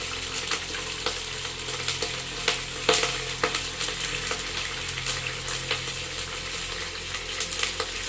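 Fennel and fenugreek seeds fry in a hot clay pot with a steady, close sizzle, broken by frequent small crackles and pops throughout.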